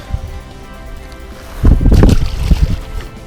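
Strong wind buffets the microphone in loud, rumbling gusts, rising sharply midway, with water lapping faintly beneath, out on open water on a stand-up paddleboard while fishing.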